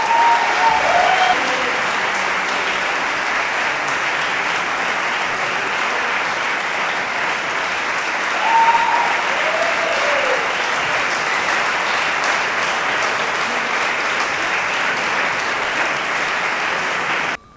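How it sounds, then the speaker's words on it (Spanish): Loud, sustained applause from an audience at the Xingro de Honra award ceremony in the Liceo de Ourense, a dense even roar of clapping that holds steady throughout and cuts off abruptly at the end. "Por favor, un forte aplauso ao Singro de honra."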